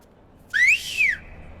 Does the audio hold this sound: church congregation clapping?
no